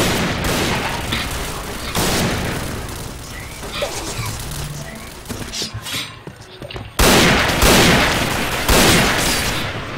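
AK-47 gunfire in the online shooter game Point Blank: dense, loud bursts of shots with heavy booming blasts, including a sharp jump in loudness around seven seconds, sounding mixed among other game effects.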